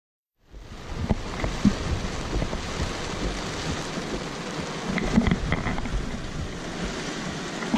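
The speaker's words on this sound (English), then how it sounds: "This rain is killing me" Rain falling outdoors in Orlando, a steady dense hiss with scattered heavier drips, loud and close, starting abruptly and continuing without talk.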